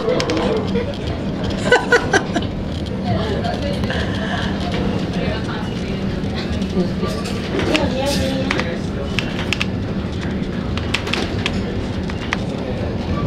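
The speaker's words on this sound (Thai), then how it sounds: "เสียง รถไฟ วูดวูดวูดวูดวูดวูดวูด" A continuous low rumble of a train passing through Amish farm country, with birds calling and faint chatter over it, steady throughout.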